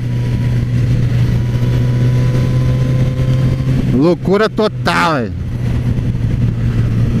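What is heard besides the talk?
Suzuki GSX-S1000Z motorcycle engine revving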